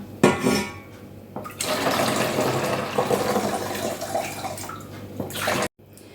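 Strained elderflower kvass pours and gurgles steadily into a bottle set in a bowl for several seconds, then stops abruptly, with a brief clatter at the start.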